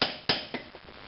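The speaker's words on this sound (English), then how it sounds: "I have to sort of hammer it on a bit." Hammer blows on a part of a Coventry Victor engine: three or four sharp metallic strikes that grow weaker, close and loud at first, each with a short ringing decay.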